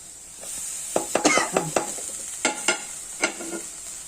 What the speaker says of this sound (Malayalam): വറുക്കാനായിട്ട് നമുക്ക് തക്കാളി ചേർക്കാം